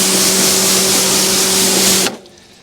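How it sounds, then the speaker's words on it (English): A burst of pressurized water spraying onto a car panel with a humming pump beneath, loud and close, stopping sharply after about two seconds. "I'll just spray it again, Carl."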